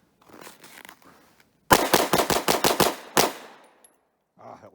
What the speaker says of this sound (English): I'll do a mag dump in that target that I just put up